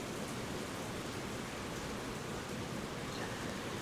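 Steady rain falls outside, a continuous, even wash of hiss and patter with no breaks and no voices over it.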